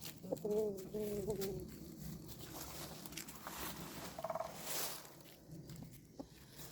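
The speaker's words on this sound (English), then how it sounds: "So far, these cockerels are living together." Several cockerels give a short crowing call early on, then scattered poultry sounds over a steady farmyard background, with a voice talking.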